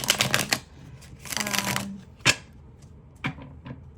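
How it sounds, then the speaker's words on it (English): Several quick riffle bursts of tarot cards being shuffled, close and crisp, each followed by a sharp tap as the deck is squared up. "We're going to get one more shuffle in"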